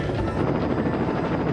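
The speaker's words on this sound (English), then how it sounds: "Where the hell did that drone come from?" A drone closes in on a train in a TV drama sound effect, a steady, loud rotor buzz with a throbbing pulse that fills the whole moment without pause or talk.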